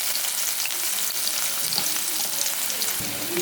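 Onion and cumin seeds frying in plenty of hot oil for a dhaba-style curry, a steady close crackling sizzle with light stirring throughout, no talking.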